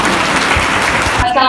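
Audience clapping fills a hall at a girls' college scouts unit formation ceremony, a steady, dense round of applause that cuts off near the end.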